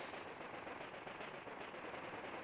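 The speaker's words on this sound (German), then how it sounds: "Und eine effektvolle Explosion." Dense, sustained crackling bursts like rapid gunfire and a rumbling explosion from the video game Kirby: Planet Robobot, steady and noisy throughout with no voices.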